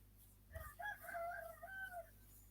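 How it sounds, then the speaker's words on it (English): A rooster crows close by on a homestead with a brief low thump before it, a single drawn-out call lasting about a second and a half over a quiet outdoor background. "Whose chickens are those?"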